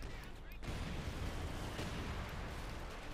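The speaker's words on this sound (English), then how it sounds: "Mortars continue to just pound away." Mortar fire rumbles continuously in a Company of Heroes 2 battle, a dense wash of booming impacts and crackling fire that stays loud throughout without a pause.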